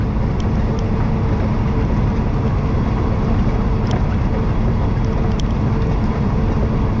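A Peterbilt 389 with an 18-speed transmission rolls down the road, a constant low engine and road drone with wind noise inside the cab, steady and unbroken.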